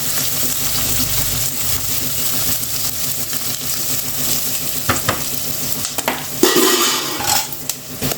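Mustard seeds, lentils, onion and curry leaves frying and being stirred in a pan for a Tamil festival meal, a continuous close sizzle with scraping and clinks of a utensil against the pot.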